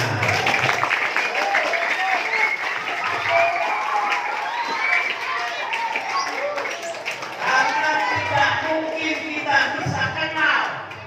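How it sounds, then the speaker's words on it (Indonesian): Audience at a Maulid Nabi religious gathering claps and cheers, a dense, continuous wash of applause mixed with crowd voices and occasional shouts throughout. "Tepuk tangan untuk bidangnya"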